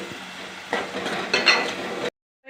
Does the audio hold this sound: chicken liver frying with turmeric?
yes